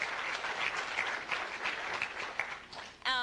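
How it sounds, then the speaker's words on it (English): Applause from a seated conference audience fills the room as a steady, moderately loud patter of many hands, ending with a brief voice. "can we clap?"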